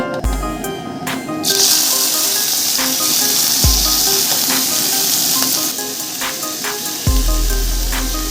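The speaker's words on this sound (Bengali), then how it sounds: "কড়াতে মাছগুলো তুলে দিচ্ছি" Fish pieces laid one by one into a hot wok over a lowered stove flame set off a loud, steady sizzle and hiss. Occasional clinks and knocks from the pan cut through the frying.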